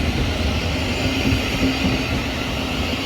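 Train 70134 from Brighton to Bedford rumbles past at Three Bridges with a steady, loud, broad roar and a faint tonal whine, sustained throughout with no voices.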